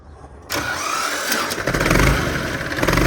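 A T28 tractor engine cranks and catches after a short quiet lead-in, then settles into a loud, close, rough running rumble with uneven pulsing, no talk over it.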